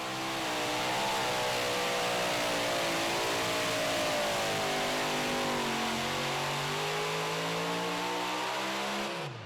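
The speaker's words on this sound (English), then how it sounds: "it is hard to believe that it almost pulled that tractor down, but eventually it started grunting its way back up in there" Super modified pulling tractor at a Saluda, SC pull roars loud and sustained, its engine pitch climbing and dipping as it strains down the track, then cutting off abruptly at the end.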